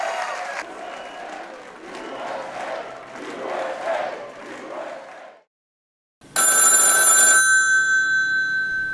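A telephone bell rings loudly in one long burst that fades out, following a stretch of crowd noise and a short silence.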